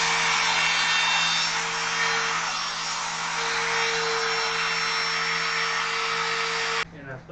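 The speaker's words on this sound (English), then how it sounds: "Now I need to round the edges and sand them up." Power sanding on the rounded edges of a wooden thread rack: a steady, loud, broadband whine with a constant motor hum, running continuously for about seven seconds before abruptly stopping.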